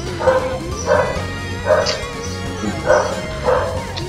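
A dog barks in the video game Sonic Adventure, giving about six evenly spaced, sharp yapping barks in just over four seconds, loud and close, over a low, busy game backdrop.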